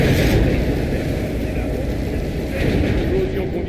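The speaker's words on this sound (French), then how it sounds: "L'explosion qu'on vient d'entendre" Loud, rumbling explosion from the video game Batman: Arkham Origins, a dense low roar that fills the whole moment and holds steady without a clear single onset, like sustained blast noise.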